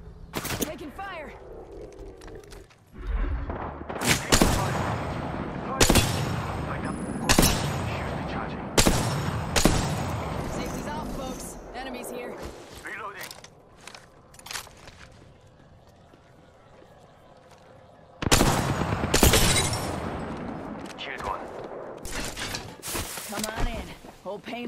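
Gunfire bursts in a firefight in the video game Apex Legends, sharp loud volleys in clusters with pauses between, with voices talking over and between the shots.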